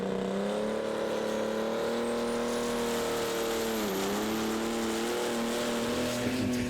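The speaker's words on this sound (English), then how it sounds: "It's Major Madness, driven by Ed Bateman. A wonderful looking Fordson Major, this one." A Fordson Major tractor, named Major Madness, roars down the track in a tractor-pull final, its engine a loud, steady drone whose pitch dips briefly midway and then climbs again as it pulls on.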